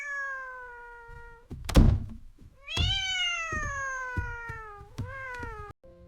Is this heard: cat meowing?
yes